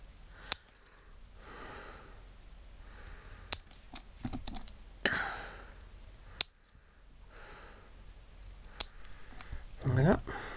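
Scissors snip paper strips at an angle while making a scrapbook bank card holder, several sharp, crisp cuts spaced a second or two apart over faint handling rustle and quiet talk.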